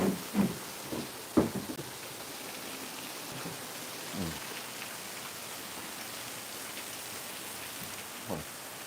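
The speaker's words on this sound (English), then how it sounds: "Now it's just rain, no wind." Steady rain falls during Hurricane Milton with no wind, a soft continuous hiss broken by a few louder drips and thumps nearby, including a cluster near the start.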